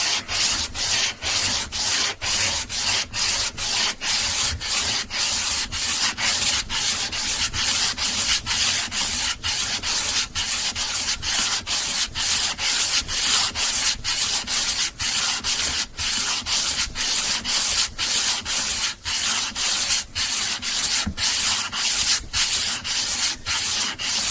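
A wooden fretboard on a 1980 Kay K30 Les Paul copy guitar is sanded to a 9.5 radius with a radius block, giving close, loud, steady rhythmic back-and-forth rasping strokes, about two per second, throughout with no talking.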